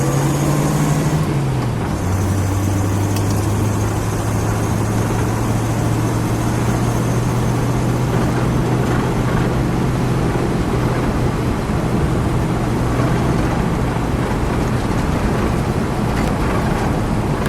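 A 1942 Buick Super Convertible engine hums steadily at low pitch while tires roll smoothly on the road, a continuous even drone with no talking.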